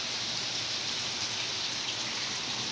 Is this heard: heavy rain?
yes